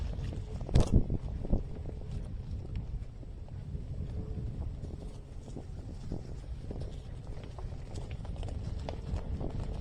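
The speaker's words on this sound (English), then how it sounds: "the leaves and the twigs make more noise than the bike does" An electric dirt bike on a trail rolls over dry leaves and twigs, giving a steady crunching, rustling texture with a louder burst of crackles near the start, the motor itself barely noticeable.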